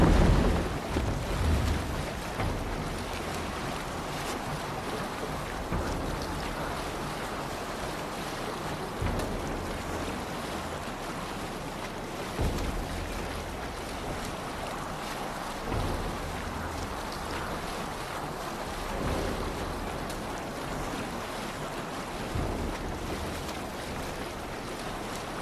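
A Viking longship sailing across open sea in Assassin's Creed Valhalla, steady rushing waves and wind with water splashing against the hull, a continuous broad wash that is loudest at the start.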